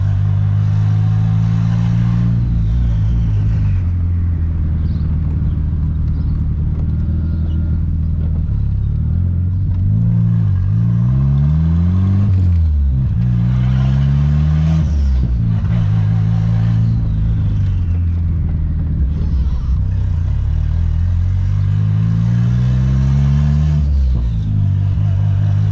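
A turbo Volkswagen Voyage accelerates through a neighborhood, its engine loud and close, revving up and down repeatedly with rising and falling pitch and rough, sputtering clatter throughout.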